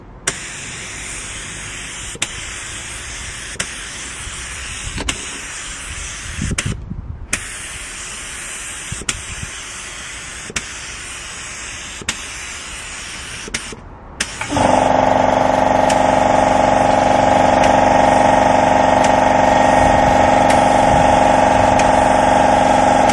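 A 3M Performance spray gun, used by a painter and decorator, sprays paint: a loud, steady close hiss with a tonal whine starts partway through and runs continuously, after a quieter stretch of faint hiss and small clicks.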